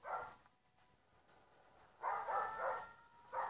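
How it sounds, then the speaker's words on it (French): A couple of dogs bark in short bursts, fairly close, with a quieter pause between volleys and no talking. "Ça se voit leur aboiement."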